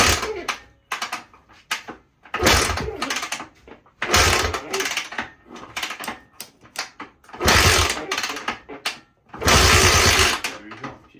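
A Honda 200X three-wheeler engine cranks and tries to catch after its throttle linkage was reconnected: repeated loud bursts of rapid mechanical chugging that stop and start again, with someone talking in between.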